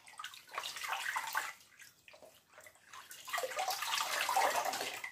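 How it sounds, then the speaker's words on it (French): Running water splashes as a face is rinsed at a bathroom sink, a steady rushing flow that dips briefly in the middle before swelling louder again, close and continuous with no voices. "Je rince une petite dernière fois."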